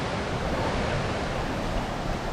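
Steady broadband rush of water pouring down Anguthi Falls near Yelagiri Hills, a constant dense roar with no distinct breaks, fairly close and unbroken by voices.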